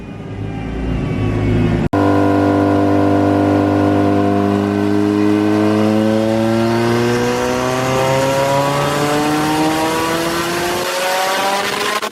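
A powerful turbocharged Honda engine on a dyno revs hard and loud, its pitch sweeping steadily upward for several seconds as it winds out, then cutting off abruptly near the end.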